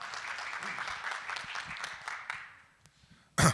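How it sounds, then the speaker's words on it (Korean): An audience at a Korean media industry expo session applauds for an incoming speaker, moderate clapping that fades out over a couple of seconds, followed by a brief thump. "여러분 큰 박수 부탁드립니다."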